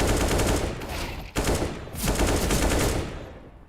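Sustained AK rifle fire from a competitive shooter match, dense continuous bursts with a brief gap near the middle, then another long volley that tails off toward the end.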